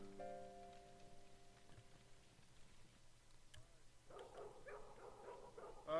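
In the Broken Sword 2 video game, the watchman's dog barks several times, loud and close, in short bursts over a dim ambient background. A musical tone fades early on.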